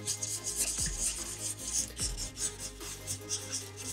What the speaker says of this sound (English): Just wiggle that chisel tip up and around, down.